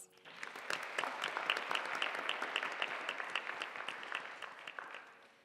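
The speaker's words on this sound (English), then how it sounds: "Please join me in another round of applause." Audience applause after a solo Bharatanatyam dance performance at an arangetram debut, a steady dense clapping from a large crowd sustained for several seconds before tapering off.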